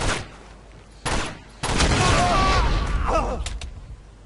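Gunfire in Uncharted 2: Among Thieves, a short blast then a longer loud burst of shots and booms, with someone talking faintly through it.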